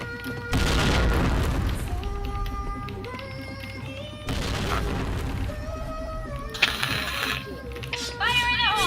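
Video game grenade explosions: two heavy, booming blasts about four seconds apart, each trailing into ringing game music and effects, with voices speaking over the action.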